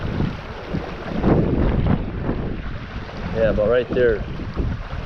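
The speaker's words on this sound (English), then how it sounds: "The wind's picking up." Strong wind gusts buffet the microphone beside a creek, a steady rushing roar throughout as a person talks briefly.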